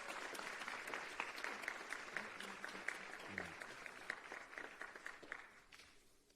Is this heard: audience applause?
yes